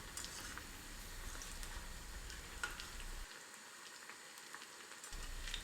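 Batter-dipped nendran banana slices deep-frying in hot oil for palam pori, a soft, steady bubbling sizzle with fine crackles, fairly faint and continuous throughout.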